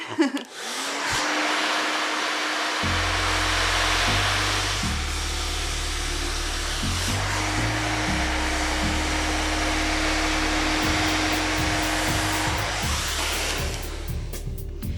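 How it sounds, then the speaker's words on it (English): A hair dryer blows steadily and loudly for the whole stretch, its pitch shifting slightly as it is moved around, with no voices. "the heat of the blow dryer is actually acting"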